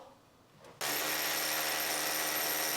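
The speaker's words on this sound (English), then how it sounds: "So I'll get the chisel bit now, start breaking this out" A power drill fitted with a chisel bit starts abruptly and breaks out brick in an electrician's wall job, a loud, steady, harsh hammering roar that holds continuously after a quiet start.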